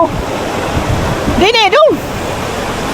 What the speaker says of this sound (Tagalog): Puro alon yan eh.